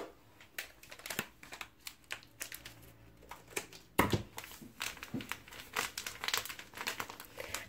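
A bag of semolina flour crinkles and rustles in quick, irregular bursts, close and fairly faint, with a sharper crackle midway and no talk.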